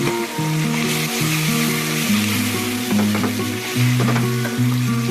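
Curry leaves and garlic paste frying in hot oil, a loud continuous sizzle and crackle, with steady background music running beneath it throughout.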